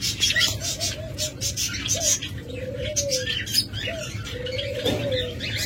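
Caged doves coo in soft, low repeated calls, with brighter bird chirps and twitters mixed in close by.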